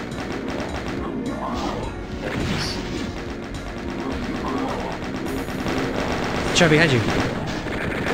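Chaingunner enemies in the Doom game spraying rapid automatic gunfire amid a dense, constant barrage of game combat noise, with someone talking briefly over the din.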